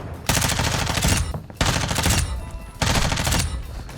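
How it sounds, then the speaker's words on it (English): Lachmann SMG in Call of Duty firing three fast, loud full-auto bursts about a second each, separated by short pauses. "this gun shoots pretty quick, pretty straight"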